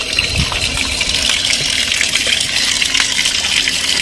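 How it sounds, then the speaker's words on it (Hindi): Cold spring water gushes loudly and continuously into a container being filled near a temple, a close, dense rushing sound with no talking. "भरते हैं ऐसे ठंडा पानी"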